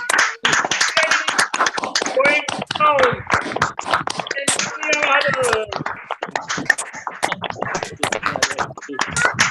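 An audience claps in welcome, dense scattered hand claps continuing steadily with a voice speaking over the applause.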